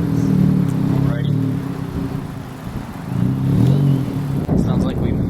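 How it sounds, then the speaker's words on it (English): A 2022 Subaru BRZ with an aftermarket downpipe exhaust idles and revs in rising and falling surges at a car meet, with people talking over the engine. "Sounds like we might have some downpipe action on this."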